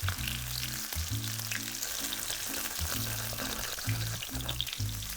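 Mushrooms crisping in a frying pan give a continuous bright sizzle over a rhythmic low thumping background, with no talk.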